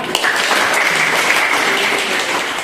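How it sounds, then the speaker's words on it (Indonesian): Pupils in a classroom clap for a classmate named Ratih, a brief, even burst of applause heard at moderate loudness with no talk over it. "Sekali lagi tepuk tangan buat Ratih anak."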